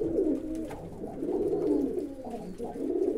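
Young pigeons coo steadily inside a pigeon loft, with several soft, rolling calls overlapping close by and continuing without pause.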